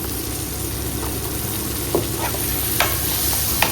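Ginger garlic paste sautéing in a pan for mutton curry, a steady close sizzle with a few light scrapes and taps of a stirring utensil.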